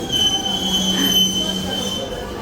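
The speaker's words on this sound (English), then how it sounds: "Wow, what a wonderful train." St. Petersburg metro train passing through a station, loud and close, with sustained high-pitched wheel squeal and rumbling rail noise throughout.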